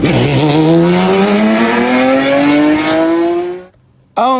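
A BMW race car accelerates hard at the Grobnik race track during a speed meet. The engine's note climbs steadily, loud and close, then cuts off abruptly, followed by a brief roar returning at the end.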